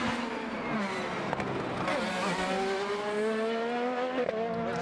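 IndyCar race cars scream past on the street circuit at the 2025 Firestone Grand Prix of St. Petersburg. High engine notes whine and shift pitch continuously, with several cars overlapping at close range.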